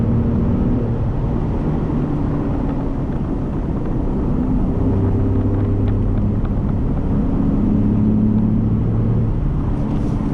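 A 2017-18 Ford F150 Raptor pickup in sport mode accelerating hard, a loud, continuous deep engine and exhaust roar heard from inside the cab, steady and unbroken throughout.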